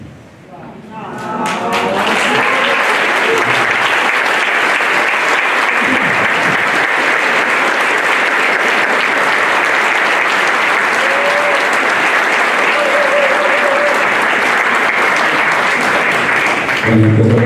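Sustained, loud audience applause after a poetry reading at a book presentation, swelling within the first two seconds and holding steady as a dense wash of clapping until it breaks off abruptly at the end.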